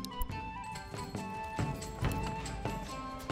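Horse hooves clip-clop in Manor Lords, a steady rhythmic run of close, clear knocks against medieval village game ambience, with no one talking.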